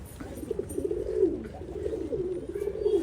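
Pigeons coo steadily at a loft, a continuous run of low, rolling coos from several birds close by, with no talk.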